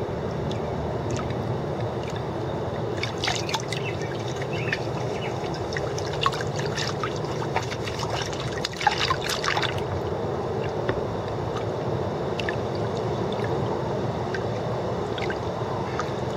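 Gravel being washed in a gold pan on the Rogue River, water sloshing and trickling steadily with clustered gritty swirls and splashes near the middle.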